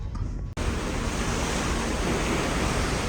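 Open ocean waves wash and hiss continuously below a cruise ship on a sea day, a broad steady surf roar mixed with wind on the microphone after a brief cut near the start.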